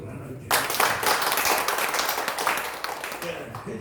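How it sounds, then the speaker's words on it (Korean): Congregation at a Wednesday church worship service breaks into applause, a dense burst of clapping that starts abruptly and carries steadily at moderate loudness, with scattered voices mixed in. "이해가시면 박수를 하나님께."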